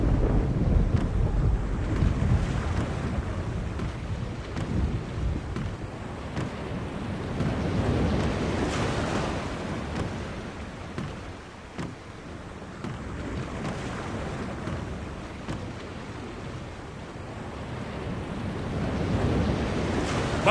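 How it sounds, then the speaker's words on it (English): A storm at sea in The Longest Journey: steady roaring wind and crashing waves swelling and fading in a continuous low rumble, with no voices. "The storm is closing in."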